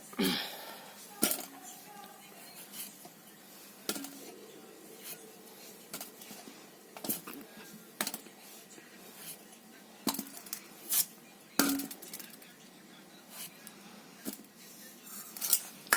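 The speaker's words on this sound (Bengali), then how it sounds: "আমি আলুটা জাস্ট কেটে নেব" A peeled potato being cut with a knife in a home kitchen, giving quiet, sharp, irregularly spaced cuts and taps with soft scraping between them.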